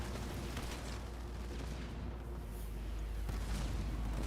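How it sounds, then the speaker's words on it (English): Gunfire and turret shots in the strategy game Halo Wars 2 form a continuous rumbling barrage of booms and pops. The sound stays fairly faint and distant and is heard on its own, without voices. "Surrounded by mines and units that are just shooting him down. And of course the turrets."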